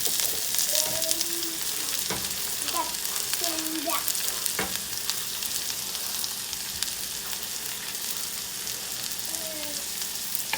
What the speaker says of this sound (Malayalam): ഇനി ഇത് ജസ്റ്റ് ഒന്ന് ട്രാൻസ്ലൂസൻ്റ് ആവുന്നത് വരെ നമുക്കൊന്ന് ഇളക്കി കൊടുക്കാം.